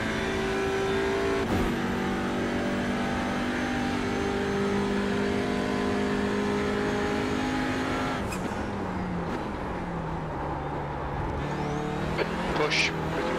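A TCR touring car engine in the iRacing sim at Circuit Gilles-Villeneuve in Canada drones steadily with harmonic whine, shifting pitch as it lifts and re-accelerates through corners, with another car close behind and a driver talking over it.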